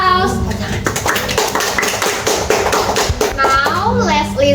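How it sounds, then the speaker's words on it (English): Classroom applause for a student group after an English presentation, a burst of many hands clapping close by for several seconds, with children's voices mixed in. "Let's give them applause."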